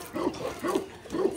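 A dog at an animal shelter gives three short soft barks or woofs spaced evenly apart, fairly quiet and close.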